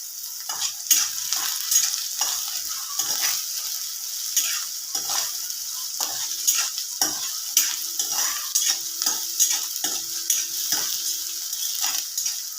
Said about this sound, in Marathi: थोडा सोनेरी कलर येऊपर्यंत आपल्याला परतून घ्यायचं आहे